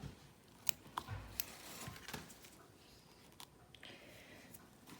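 Scissors snipping a suture on a mock suture-removal practice pad, a few quick faint clicks early on against quiet room noise, with soft handling sounds after.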